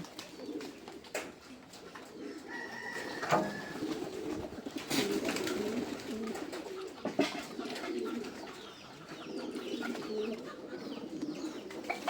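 Pigeons coo in a loft, low rolling calls repeating through steady ambient noise, with a few sharper chirps and faint clatter of birds moving about.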